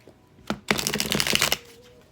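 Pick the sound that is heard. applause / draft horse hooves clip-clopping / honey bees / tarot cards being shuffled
tarot cards being shuffled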